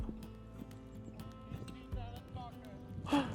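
Horse hooves clip-clopping at a stable, a quiet uneven series of hoof knocks on hard ground with faint background noise and a brief rustle near the end.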